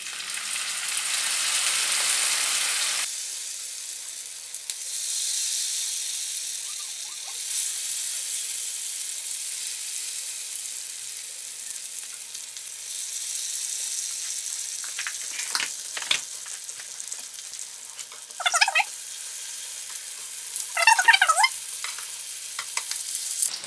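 Folded brick pastries frying in a hot oil bath over medium heat: a steady, bright sizzle throughout, louder at first, with a few sharper crackles and spatters near the end.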